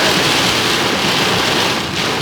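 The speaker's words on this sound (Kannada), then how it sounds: "ಎಲ್ಲ ದೊಡ್ಡ ಮಳೆಗಳು ಭಾರಿ ಬರ್ತಾವೆ." Heavy rain with strong wind along the road from Chitradurga to Dharmasthala, a dense, loud, continuous roar of rain on surfaces with no voices over it.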